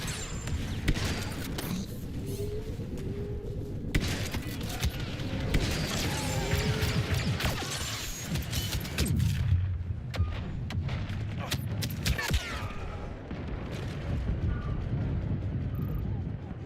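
Bombs and blaster fire thunder through a Star Wars Battlefront 2 battle, dense heavy booms and crashes rolling continuously at close range with bursts of gunfire, loud throughout, with voices faintly in the mix.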